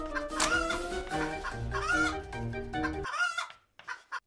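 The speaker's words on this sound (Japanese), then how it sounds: "ニワトリ軍団が来た。" Chickens crow and cluck in a game scene with a flock of chickens, the calls continuous and close for about three seconds, then a few brief quieter clucks before fading.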